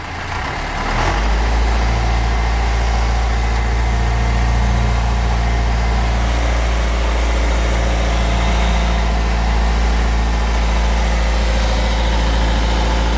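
A Toyota 4x4 fitted with a Cummins 4BT diesel engine crawls in first and low range, a loud, steady, deep engine drone that builds within the first second and holds evenly, close up with no talking.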